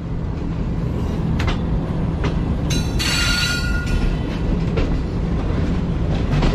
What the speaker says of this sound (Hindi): पूरे 11:55 पर हमारी ट्रेन जो है वो अप्रोच बना रही है खानेवाल जंक्शन रेलवे स्टेशन पर।